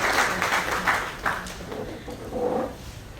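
An audience at a farewell ceremony for a municipal commissioner applauding, a moderate burst of clapping that swells and fades in waves, with some murmuring in the background.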